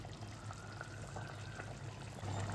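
A salmon fish curry (kulambu) simmers in a pot, giving a faint, steady bubbling that stays quiet and even throughout.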